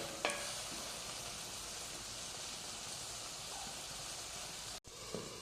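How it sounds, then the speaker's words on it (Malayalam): Kerala egg roast with eggs sizzling steadily in masala in a pan, a soft, continuous frying hiss with a few faint stirring scrapes, close and quiet, with no talking. "മുട്ട ചേർത്തിയിട്ട് ഇനി വീണ്ടും നന്നായിട്ടൊന്ന് റോസ്റ്റ് ചെയ്തെടുക്കാം"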